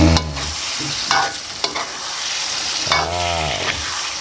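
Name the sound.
tempoyak frying and being stirred in a pan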